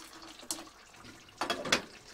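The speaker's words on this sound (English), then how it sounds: "Pour in the water." Water poured into a pan for cooking rice aboard a narrowboat, two short splashing bursts close by, the second longer and louder, with no talk.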